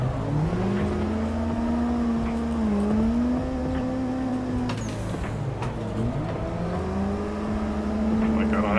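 A car in the Assetto Corsa racing game drifts into a turn on the e-brake, its engine droning steadily with a rising and falling pitch and faint tire noise underneath.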